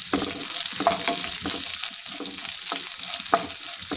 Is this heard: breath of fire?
no